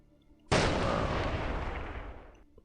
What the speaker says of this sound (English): So we're hearing explosions.